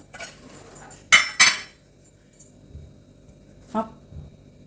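A cooking pan set down on a stovetop in a home kitchen, heard as two sharp metallic clanks in quick succession, followed later by a softer knock, with quiet room tone in between.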